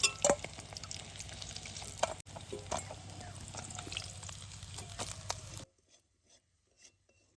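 Katla fish frying in oil, with a constant sizzle and scraping and stirring against the pan. Several sharper clanks break in before the sound cuts away to near silence, and no one talks.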